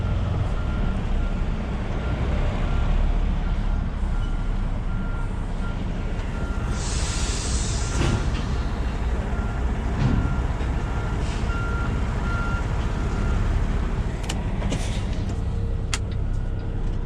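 A truck backs a trailer into a parking spot in the rain, its engine rumbling steadily throughout while faint reversing beeps chirp intermittently, with a steady wash of rain and road noise underneath.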